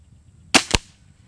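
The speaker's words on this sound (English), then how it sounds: "From the shooter's perspective, I would describe it as more of a clean snick, followed by a thud." A Diana 340 NTEC .177 air rifle fires once: a sharp, clean snick followed a fraction of a second later by a short thud, close and loud against a quiet background.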